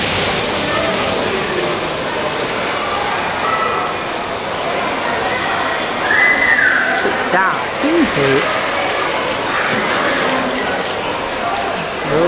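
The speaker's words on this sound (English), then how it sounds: "Now let's watch this water fountain coming back round." Water fountain on the Eureka museum clock at Saturday lunchtime, a loud continuous splashing rush with mechanical clicking and whirring from the clock mechanism, with voices speaking over it partway through.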